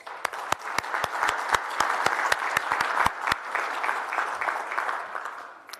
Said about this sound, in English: I would like to propose we give a brief round of applause to JJ, his whole staff, Alicia in particular